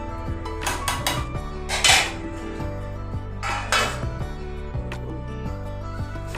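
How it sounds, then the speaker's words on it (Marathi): A metal lid is set on a pot of carrot halwa with several ringing clanks and scrapes, including two louder clattering knocks, each followed by a resonant metallic ring. "आता मी पुन्हा झाकण ठेवते"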